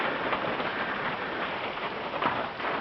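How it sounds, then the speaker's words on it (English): Steady rain falls at a farm barn, an even, close hiss of drops that continues without a break. "just a rainy day."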